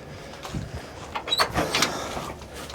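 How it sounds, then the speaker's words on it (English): The door of a square-body Chevy C10 farm truck from Arizona opens with a short series of close creaks and mechanical clunks, rising to a brief louder latch-and-hinge sound. "Here, we can open the door, you can kind of see."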